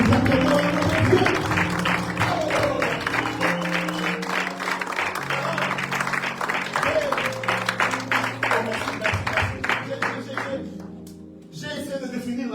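A church congregation claps and cheers loudly and continuously, hands beating in a dense steady rhythm for most of the stretch before dropping off sharply near the end and then briefly picking up again.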